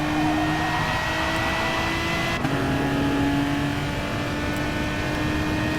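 Race cars circle Interlagos in Gran Turismo Sport, a Subaru among them, their engines droning loud and steady with a sustained high whine and slight pitch shifts as they drive on.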